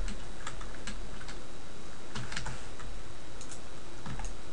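Computer keyboard keys tapped in scattered quick clicks, including a V key pressed to switch viewports in 3ds Max while building a Wipeout race track, close and fairly quiet over a low steady hum.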